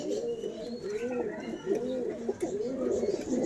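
Nearby pigeons in a home loft give rolling, bubbling coos in repeated phrases, loud and close, with a few brief higher peeps mixed in.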